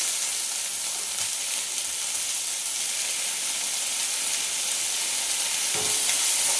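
Chopped tomato with ginger and garlic paste fries in a pan for kuska rice, a loud, dense, continuous sizzle close up with faint stirring scrapes and a soft knock near the end.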